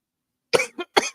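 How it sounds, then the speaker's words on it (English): Three harsh coughs in close succession from a nearby person, loud and isolated with no talking over them. "I'm like coughing"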